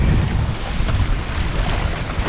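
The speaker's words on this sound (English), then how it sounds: "We're sailing out from the Skerries now, and we began to get the swell coming from south-southwest, and a good wind." A sailboat makes about 5 knots through a south-southwest swell in a good wind among the Swedish skerries. Steady, loud rushing wind and water wash fill the whole stretch, with heavy wind buffeting on the microphone and no voices.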